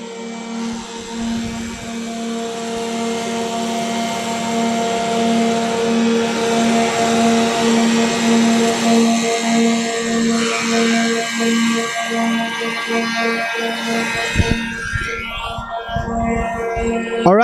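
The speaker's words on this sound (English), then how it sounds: "All right, so now all the machine is running, and he can jog the first piece through." A Profimat 50 woodworking moulder runs with a loud, steady drone and strong sustained tones. The sound stays constant for most of the stretch and roughens toward the end as the machine works.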